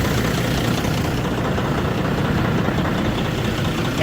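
A Freightliner truck engine idles after starting on a new battery cable, giving a loud, steady diesel rumble with a faint knock running unbroken throughout.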